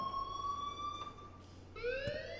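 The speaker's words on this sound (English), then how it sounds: "please turn off that alarm since that's your job" An electronic alarm in the video game Life Is Strange wails in steady, rising tones, fairly faint and continuous throughout with no talk over it.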